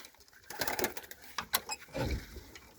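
Pigeons cooing and fluttering nearby in a loft, several close, uneven calls and wing flaps in quick bursts over a faint ambient background, with no talking.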